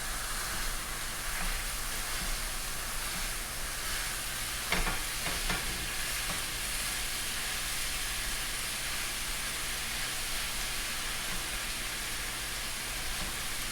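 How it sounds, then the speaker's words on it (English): Ground turkey sizzles steadily in a pan, a soft continuous frying hiss with a brief scrape of a utensil breaking up the meat partway through, heard alone without voices. "Hear that sizzle?"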